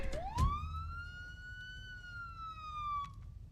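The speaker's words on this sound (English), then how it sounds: "I'm gonna turn off the siren. Because I don't want the siren to keep going." A video game siren in a prison setting wails upward and holds a steady high tone for several seconds before cutting off, with a brief thump near the start, fairly faint overall.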